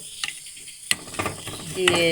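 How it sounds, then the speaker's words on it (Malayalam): Dry spices such as dry ginger, cumin and cardamom roasting in a clay pot for jaggery payasam, a brief burst of stirring and sizzling with a few scrapes, close by and with no talking. "ഒരു മൺചട്ടിയിലിട്ടിട്ട് ഇതെല്ലാം നമ്മൾ വറുത്തെടുക്കുന്നുണ്ട്"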